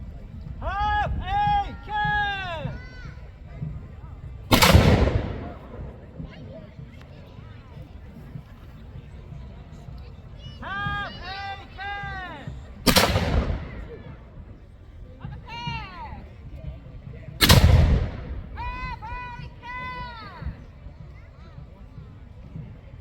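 Black-powder cannons are fired by gunners at Arundel Castle's festival of history, three loud booming blasts spaced several seconds apart with crowd murmur and shouted talk between them.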